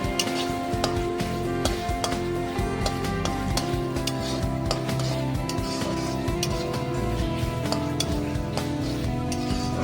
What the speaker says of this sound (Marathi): आता इथे एकदा परत परतून घेते.